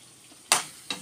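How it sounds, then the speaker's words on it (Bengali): Chili and onion hit hot fish oil in a pan, giving two sharp bursts of sizzling, one loud and one smaller, over a quiet background. "এমনি মাছের তেলে লঙ্কা দিয়ে আর একটু পেঁয়াজ দিয়ে বসিয়ে দিয়েছি।"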